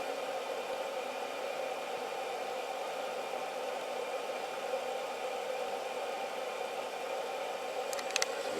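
A hefty electric motor running steadily off a graphene supercapacitor, giving a constant even whir and hum with no change in pitch, close and moderately quiet, with a couple of brief clicks near the end.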